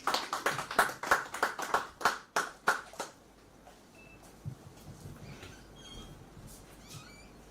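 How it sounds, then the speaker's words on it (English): Sparse applause from a small audience at a tribute event: about a dozen distinct, close claps in a loose rhythm for three seconds, then stopping, leaving quiet room tone with faint scattered noises. "give him a round of applause"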